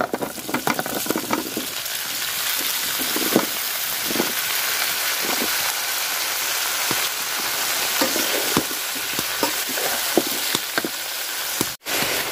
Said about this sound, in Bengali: পেঁয়াজটা আমি লাল লাল করে ভাজা নিচ্ছি। তো কপি আর আলু দিয়ে দিলাম।